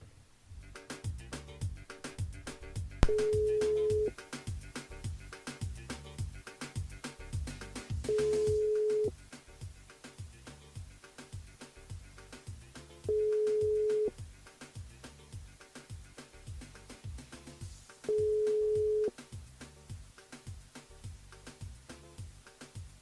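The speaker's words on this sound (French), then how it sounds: "Votre correspondant n'est pas joignable." Repeated busy tone from a telephone call that fails to connect during a French radio phone-in game, four steady beeps spaced about five seconds apart over quiet background music.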